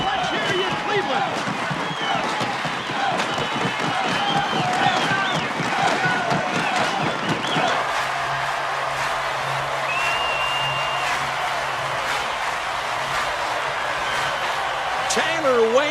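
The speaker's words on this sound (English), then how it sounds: "They're on their feet here, stomping, clapping." Baseball crowd in Cleveland on its feet, a dense, steady roar of stomping and clapping with rhythmic thumps early on that settles into a sustained crowd wash, with a voice talking over it.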